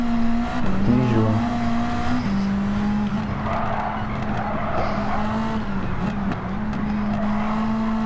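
A race car in Gran Turismo 7 holds a loud, steady engine drone with pitch shifts and brief tire squeals, running continuously without talk.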